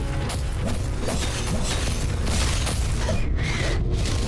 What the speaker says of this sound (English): Oh, there's like an explosions.